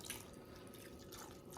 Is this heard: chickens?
no